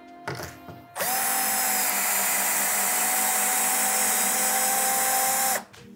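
A drill driver runs at full speed in first gear driving a screw into a wood plank for several seconds, a loud steady high-pitched whir with a constant tone, starting abruptly and cutting off at the end.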